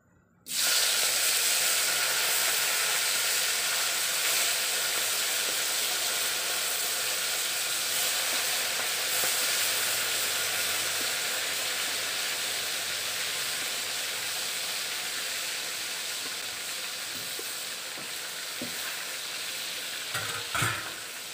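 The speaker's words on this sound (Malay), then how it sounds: "minyak dah panas goreng udang dulu" Steady, loud sizzling and crackling of prawns frying in hot oil for turmeric fried prawns, a continuous hiss that runs almost unbroken from start to finish.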